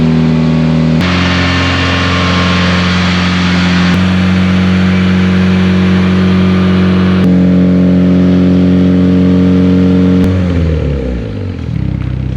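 A Mitsubishi EVO 7 engine revs hard with all four wheels spinning in the air, a loud, close, sustained drone that steps up through gear changes before winding down at the end.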